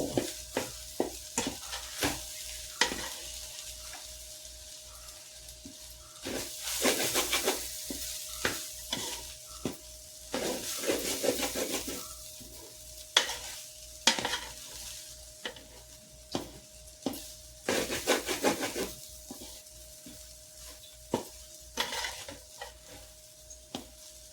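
Schezwan fried rice is stir-fried in a pan with a steady sizzle, punctuated by repeated sharp scrapes and clanks of the spatula in an uneven rhythm, close and fairly quiet, with no talking.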